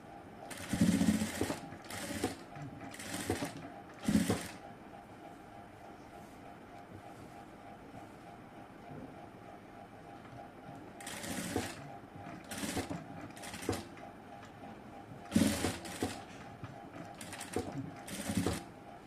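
An electric sewing machine stitches a front-cut kurti in short repeated bursts of rapid mechanical whirring, separated by quiet pauses with a faint background hum.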